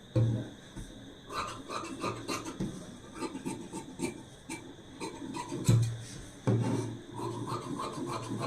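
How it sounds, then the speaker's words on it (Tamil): Cloth for the back piece of a garment is cut, giving close, continuous rasping and rubbing sounds of scissors through fabric on a hard surface, with a few soft thuds along the way. "அடுத்து நம்ம பேக் சைட் கட் பண்ணி எடுத்துடலாம்."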